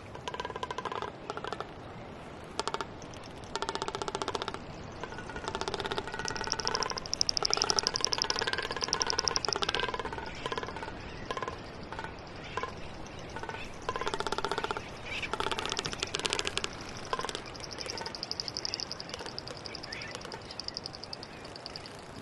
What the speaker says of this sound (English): What we're hearing is the tapping noise of a male frigate bird displaying in front of females